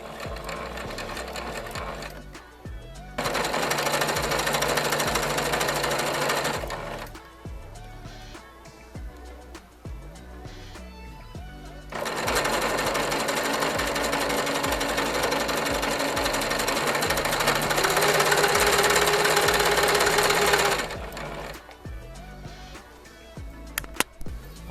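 Sewing machine stitching fabric for a gown, freshly fitted with a new needle, running in two long steady bursts of fast whirring with a quiet pause between them, close and loud with no talk.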